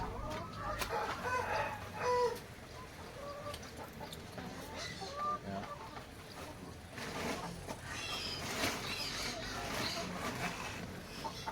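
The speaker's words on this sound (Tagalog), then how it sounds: "Dito naman tayo sa ating mga layers." Laying hens cluck busily inside a poultry coop, a dense chorus of close, repeated clucks and squawks with occasional crowing, while a person talks over the flock.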